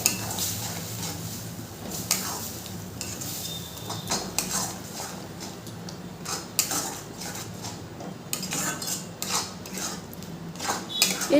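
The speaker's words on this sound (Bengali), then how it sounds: "আর দিয়ে দেবো অল্প একটু শুকনো লঙ্কার গুঁড়ো আর হলুদ গুঁড়ো দিয়ে পটলটাকে খুব ভালো করে আমি নাড়ব।" Pointed gourd paste with dried chili and turmeric powder being stirred in a pan, a steady scrape of utensil against metal with repeated sharp clinks and knocks, fairly close and continuous.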